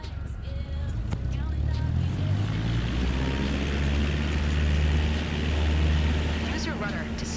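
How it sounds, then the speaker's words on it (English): A light aircraft engine runs at full power for takeoff, a loud, steady propeller drone with a low rumble that swells slightly as it builds, while a voice talks over it. "Apply full power"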